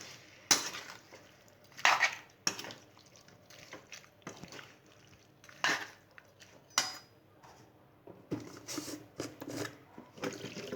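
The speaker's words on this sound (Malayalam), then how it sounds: "അത് നന്നായി ഇളക്കി കൊടുത്തേക്കാം." A spoon stirring lemon pickle in a pan, quiet scraping and clinking with a few sharper knocks, intermittent and close.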